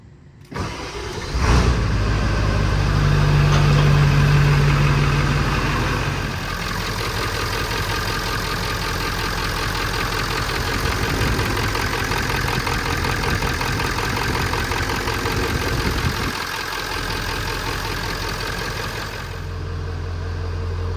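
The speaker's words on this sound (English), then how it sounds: "All right, let's crank this thing up." A Ford OBS 7.3 diesel engine cranks and fires up, then settles into a steady, loud mechanical idle with a rough rumble that carries on alone for about twenty seconds.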